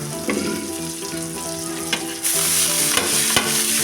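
Chickpea greens being stirred in a pan on low heat with salt and turmeric, a steady sizzling hiss with scraping spatula strokes and a louder frying burst partway through.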